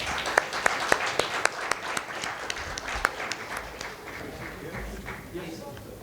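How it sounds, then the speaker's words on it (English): An audience at a conference fireside chat applauds, a few sharp individual claps standing out at first before the clapping thins and fades under a low murmur. "May we have a huge round of applause for them."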